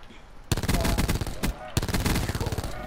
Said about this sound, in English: Is that you guys shooting shit?